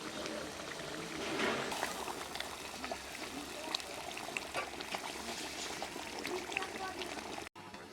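Water is poured into a pot of Bihari-style chicken curry as it cooks, giving a steady splashing pour with some sizzling. It runs for several seconds and cuts off briefly near the end.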